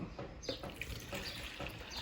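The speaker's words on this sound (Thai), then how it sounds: "พอเสร็จแล้ว เราก็เทน้ำปุ๋ยลงในเหยือกนะครับ" Dark red-black liquid fertilizer solution is poured from a container into a jug, a soft continuous splashing trickle heard close up and fairly quiet, with no voices.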